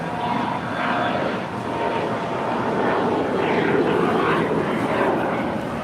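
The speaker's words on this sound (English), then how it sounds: "That is a Bombardier Challenger 300 departing to Palm Springs, FlexJet flight 521." A Bombardier Challenger 300 business jet departs Los Angeles International Airport, its engines a steady, loud broadband roar that holds for the whole stretch with a slight swell near the end.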